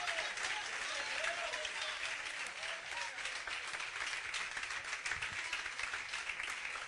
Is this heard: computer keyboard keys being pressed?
no